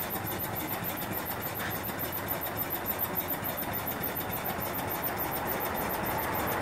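An off-grid live steam boiler with its steam engine sends exhaust up the stack in a steady, rhythmic chuffing rush, moderately loud and heard alone without talk.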